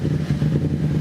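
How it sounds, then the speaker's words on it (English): A Yamaha FZ-07 motorcycle engine idles while warming up, a loud, close, steady low throb with an even pulsing rhythm and no talk. "Best we can do is go ahead and let the engine warm up."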